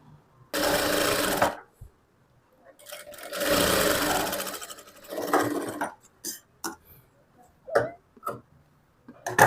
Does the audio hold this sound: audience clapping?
no